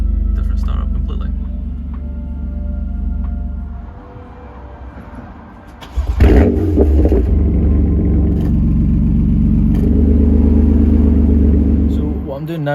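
A BMW M4 engine freshly flashed with a BM3 stage 1 tune starts up and runs loud, a deep rumbling idle with a sharp rise in level partway through, while someone talks over it.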